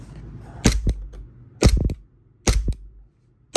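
An airsoft gun fires three spaced shots up close, each a sharp crack followed by a quick mechanical clack, with short quiet gaps between.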